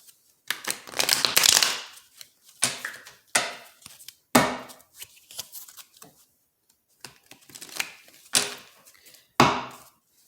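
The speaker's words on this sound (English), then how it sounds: "One more shuffle." A deck of tarot cards is shuffled by hand in short, irregular bursts of crisp riffling and clattering, separated by quiet pauses, close by with no talking.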